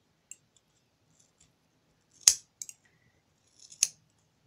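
Scissors snip through hair in a few sharp, close, crisp cuts, spaced out against near silence.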